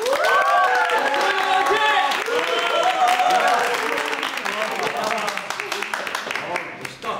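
An indoor audience claps and cheers for a family's classical performance on a stage moved inside because of sudden rain, with excited shouts and vocal whoops over steady applause that gradually thins out.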